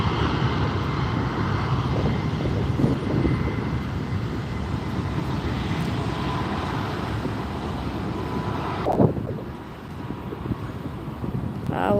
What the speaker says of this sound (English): Alaska Airlines taking off